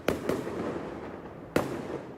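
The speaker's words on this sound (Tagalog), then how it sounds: "At the same time as the loud fireworks outside" Loud New Year midnight fireworks boom outside near a hospital, with two quick bursts followed by a third after a short pause, each leaving a crackling, rumbling tail.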